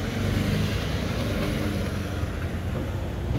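A truck drives past a garden of collard cuttings, a loud, steady low engine rumble with road roar filling the whole moment, close by and with no talk.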